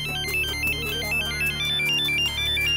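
A melodic electronic phone ringtone plays steadily throughout, a repeating bright tune over a low hum, with no talking.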